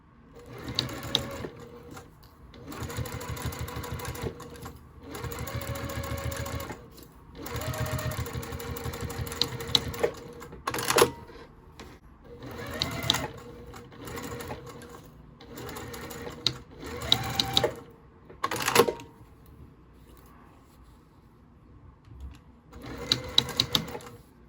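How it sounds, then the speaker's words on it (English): A sewing machine stitches a fabric pouch with a 1/4 inch seam allowance, running in several bursts of steady mechanical whirring separated by brief pauses, close and alone with no talk. "The exterior part, we're going to go ahead and just sew the entire thing, and I am using a 1/4 inch seam allowance."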